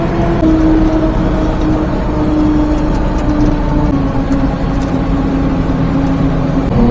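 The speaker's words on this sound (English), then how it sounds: "Oh yeah, step on the gas now" A mini-truck accelerates steadily as the driver presses the gas, its engine a loud, continuous drone and whir that holds close and constant without a break.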